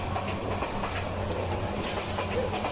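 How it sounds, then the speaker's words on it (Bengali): Steady rumble from inside a passenger train heading to Sylhet through green countryside, a continuous low drone with faint rhythmic rail clatter throughout. "আমরা ট্রেনের মধ্যে বসে আছি"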